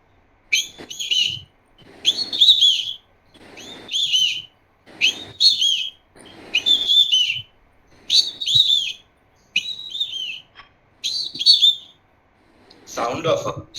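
Indian nightingale singing in a run of about nine bright, repeated whistled phrases with short gaps between, fairly loud and close, ending on a busier burst of song.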